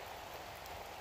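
Rain falls steadily on the Appalachian Trail in New Jersey, a close, even hiss of drops with no voices.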